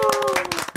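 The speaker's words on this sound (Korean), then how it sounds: "우리 고기 냄새와 함께 등장해서 우리 오기정 기자를 박수로." Studio audience on a Korean broadcast show claps to welcome a reporter: a short, dense burst of hand claps, with a faint tonal voice or sound running underneath.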